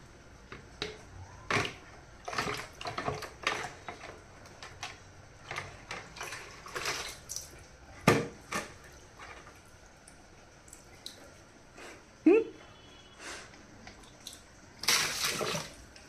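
A small boy splashes and plays with water, giving scattered wet slaps and drips in bursts, close and fairly quiet, with a denser flurry of splashing near the end.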